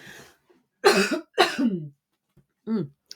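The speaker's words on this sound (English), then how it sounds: "I'm just going to cough one more time." A few sharp coughs up close, two strong ones in quick succession followed by a softer one, with brief silences between.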